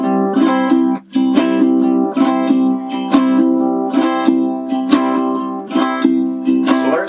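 A ukulele plays a calypso strum that combines two strum patterns, giving bright sustained chords with a syncopated down-and-up rhythm of crisp strokes. A brief dip interrupts the strumming near the start.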